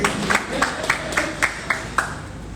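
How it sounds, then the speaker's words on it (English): Clapping from a congregation at a church anniversary service in Ibadan, sounding as a steady run of sharp claps, roughly one every half second, over a lively room. "Clap for her for me."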